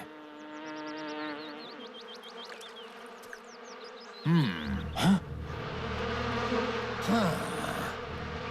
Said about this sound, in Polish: To tylko rój pszczół.